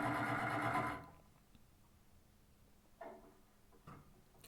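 A machine finishes the raw edges of a cut garment for an upcycled puffer vest. It runs loud and close for about a second, then stops, leaving near silence with a few soft clicks.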